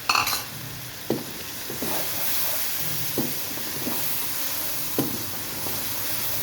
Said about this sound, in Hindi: मसाले को बहुत अच्छे से हमने भून लेना है, सारे स्पाइसेस वगैरह भी डाल के इसके अंदर।